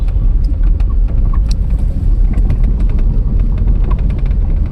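Steady, low rumbling drone of a car driving slowly and smoothly, heard close and continuous with faint rattles and clicks over the engine and road noise.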